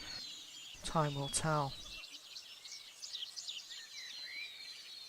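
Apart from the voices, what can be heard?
jungle birds calling, ambient sound effect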